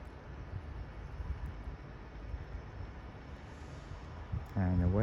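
An Avanti West Coast London Euston to Liverpool Lime Street train pulls out of Crewe station, a low rumbling rail noise in the background, with a voice talking over it near the end.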